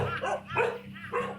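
Young Pungsan puppies on a crowded farm give several short barks and yips, close and fairly loud, in quick bursts over a low steady background hum.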